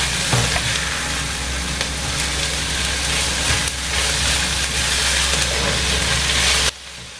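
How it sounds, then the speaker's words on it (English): Broccoli cooking in a soup pot, a loud continuous sizzle and hiss with stirring and clatter throughout, close by, before a sudden drop near the end. "So I'm going to go in and put in broccoli."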